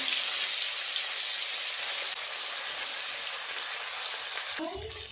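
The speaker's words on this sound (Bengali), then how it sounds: "মাছ ভাজার জন্য তেল একদম গরম হয়ে গেছে" Bata fish sizzle in very hot oil, a dense, loud, continuous crackle that stays steady throughout before a voice cuts in briefly at the end.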